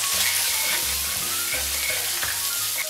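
Shallots and frozen peas fry loudly in a pan for fried rice, a dense close crackling sizzle over a low rumble from the burner, uninterrupted and without talk.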